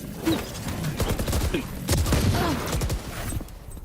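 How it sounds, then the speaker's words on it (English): Rifle fire in a competitive Rainbow Six match, sharp bursts and rapid shots cracking over a busy game mix with a caster's voice talking through it. "Good headshot coming out for Nerve."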